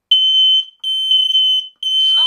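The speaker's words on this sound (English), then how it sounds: "This alarm cannot be silenced. Smoke levels too high." A combination smoke and carbon monoxide detector sounds a steady high-pitched electronic tone in three long pulses, with brief pauses between them and a faint synthetic voice at the end.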